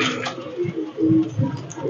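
Pakistani Teddy pigeon cooing close by in soft, repeated low coos, with a faint background voice.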